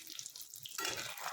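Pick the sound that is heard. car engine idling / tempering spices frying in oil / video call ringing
tempering spices frying in oil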